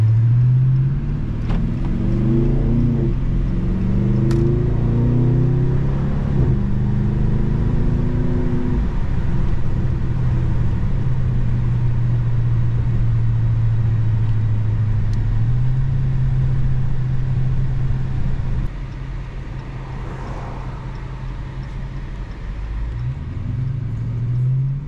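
Deep engine rumble from a Dodge Hellcat car on the way to a lake, with rising rev sweeps early on and a steady loud idle drone for the rest.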